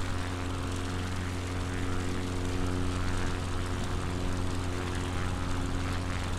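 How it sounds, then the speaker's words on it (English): Propeller plane cruising in flight over the UK coast near Aberdeen, its engine giving a loud, constant, tonal drone heard from inside the cabin without interruption. "Let's trim the plane and bring it down a little bit"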